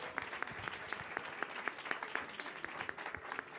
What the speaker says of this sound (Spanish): Bueno, un aplauso a Liu.